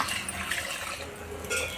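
Water splashing and pouring steadily into a pot of cooking lentils, a continuous bright rushing noise with a slight surge near the end.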